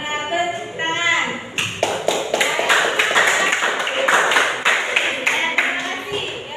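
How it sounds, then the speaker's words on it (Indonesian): A classroom of students claps together in a sharp, rhythmic burst of about a dozen near, fairly loud claps, with a voice talking just before the clapping starts. "Tepuk tangan."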